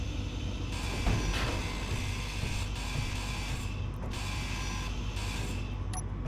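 Grinder cutting apart a rover in the game Space Engineers, a continuous mechanical grinding and creaking drone with faint clicks, steady and fairly quiet throughout, with no talking.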